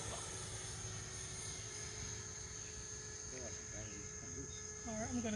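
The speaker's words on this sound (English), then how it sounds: "the L-39 is just cruising at half throttle" Freewing L-39 Albatross 80mm EDF RC jet cruising at half throttle, a steady faint high-pitched whine from a distance with insects chirping and brief talk near the end.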